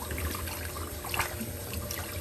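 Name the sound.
tap water running into sink to cool corn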